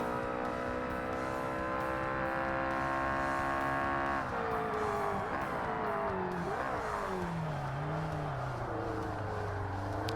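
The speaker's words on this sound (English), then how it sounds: "I've noticed the engine braking in this game is really useful as well." A Ferrari race car engine in Forza Motorsport holds a steady high whine, then drops in pitch through downshifts and engine braking, loud and continuous with no talk.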